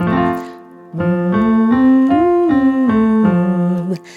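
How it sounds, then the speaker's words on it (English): A voice hums a rising and falling arpeggio through a straw with a buzzy, muffled tone, in short repeated pulses after a brief breathy start. "we're going to do an arpeggio singing through the straw"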